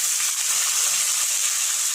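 Small cut potato pieces fry in oil with cumin, garlic, onion and green chilli, giving a soft, even, close sizzle that holds steady without pauses.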